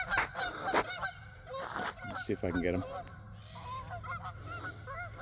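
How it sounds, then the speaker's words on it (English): Canada geese honk repeatedly over an outdoor walk, their calls coming in bursts at moderate distance while a person speaks briefly near the start. "Can you hear the Canadian geese?"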